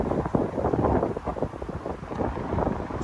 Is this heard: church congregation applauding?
no